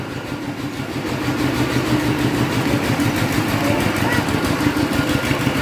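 A farm tractor engine runs steadily and close by, a loud mid-pitched rumble with a regular throbbing beat throughout.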